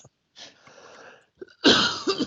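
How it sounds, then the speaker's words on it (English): A person coughs close to the microphone, with a short throaty burst followed by a louder, harsher cough, heard alone without talking. "didn't mean to cough in you guys' ears."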